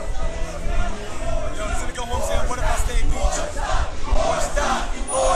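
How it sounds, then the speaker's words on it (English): A crowd at a Genesis esports event chants in rhythmic, swelling waves, a loud, dense roar of many voices with commentary mixed in. "Crowd chanting four star."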